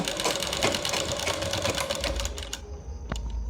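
A sewing machine stitches the folded edge of a cotton kaftan nighty, a steady dense mechanical whir that runs close and continuous before easing off near the end, with a sharp click just after.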